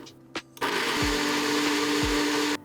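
A blender motor roars loudly and steadily for about two seconds after a brief thump, coarsely grinding chillies without water, then cuts off abruptly.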